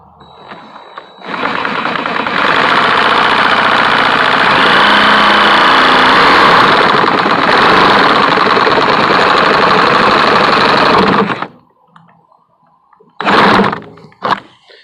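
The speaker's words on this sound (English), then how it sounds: "you can reach in there with your saw and you can just cut those bad boys loose" Power saw cutting loose parts under a Chevy Tahoe during a rear heat and A/C repair: a loud, steady buzzing whine lasting about ten seconds, then stopping, followed by two short bursts near the end.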